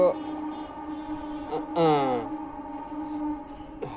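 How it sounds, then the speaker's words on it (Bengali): Passing train heard as a steady low rumble with a sustained horn tone, while a child's and an adult's voices speak briefly over it. "হ্যাঁ ট্রেন যাচ্ছে, হ্যাঁ ট্রেন"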